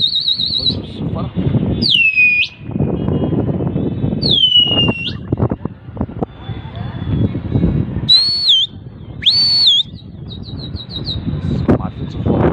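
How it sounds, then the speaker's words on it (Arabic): Several sharp, piercing whistle blasts ring out at intervals, some rising and some falling in pitch, over a noisy outdoor background with crowd murmur. "بص بص الصفارة"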